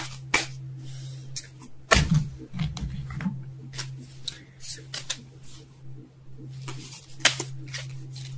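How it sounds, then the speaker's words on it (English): Tarot cards being shuffled by hand, giving scattered close riffles and taps over a low steady hum, with a person talking through part of it. "Damn it, and I can't shuffle either."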